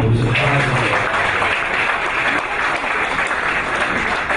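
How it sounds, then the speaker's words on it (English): Audience at an international leaders' event bursts into dense, sustained applause, loud and close, holding steady for several seconds with a brief voice at the start. "Let's applaud for that."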